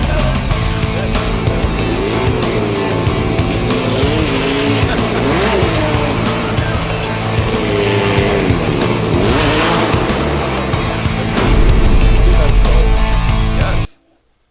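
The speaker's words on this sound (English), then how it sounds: "I do my ice driving for Porsche each year in February" A Porsche sliding on ice, with a loud engine revving and rising and falling and long tire squeal throughout, before an abrupt cut to silence.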